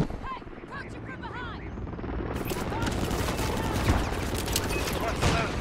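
Heavy gunfire in the video game Call of Duty: after a brief lighter opening with chirping effects, a dense, continuous crackle of rapid shots and bursts, loud and close, roars steadily to the end.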